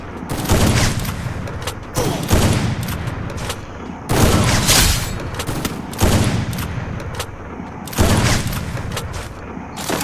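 Gunfire in a shooter video game match, including sniper shots, with loud booming reports roughly every two seconds, each trailing into a long rumbling tail over constant dense noise.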